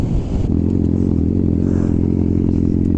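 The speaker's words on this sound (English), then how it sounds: "that bike is loud and it's dope too" A loud motorcycle engine idles with a steady, rumbling exhaust note that stays constant and close throughout.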